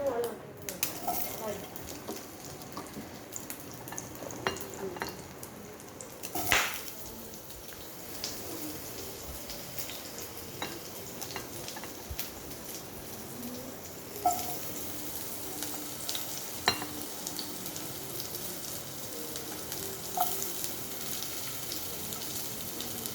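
Chopped potatoes sizzle in hot oil in a wok over a high gas flame, a continuous crackling fry punctuated by occasional clinks and stirring knocks.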